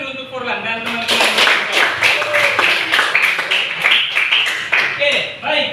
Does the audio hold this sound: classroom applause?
yes